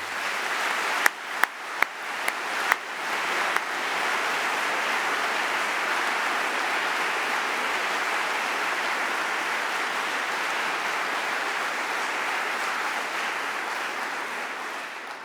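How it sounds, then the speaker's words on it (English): An audience at a 2014 preservation awards ceremony applauds the award winners, with a few sharp claps at the start that build into sustained, even clapping from a large crowd that carries on steadily. "please join me in one final round of applause to all the award winners tonight"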